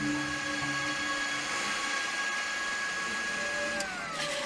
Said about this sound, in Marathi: चालू झालं मिक्सर.